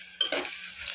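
Potatoes frying in a home pan for a mixed vegetable curry give a steady close sizzle, with a brief stirring scrape near the start and a continuous crackle throughout.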